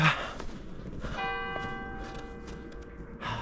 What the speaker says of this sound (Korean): 성당의 종소리